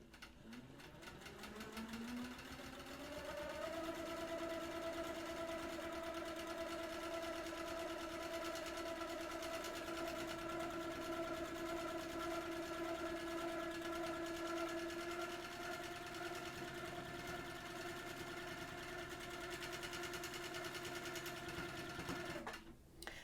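Sewing machine quilting petal-shaped stitches, winding up over a few seconds into a long, steady, loud whirring run that stops abruptly at the end.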